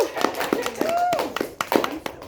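A small audience claps after a student's junior-year exhibition presentation, short scattered handclaps under a nearby voice.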